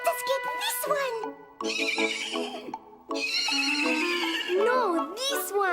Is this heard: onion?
no